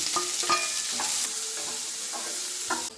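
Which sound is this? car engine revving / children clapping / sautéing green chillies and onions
sautéing green chillies and onions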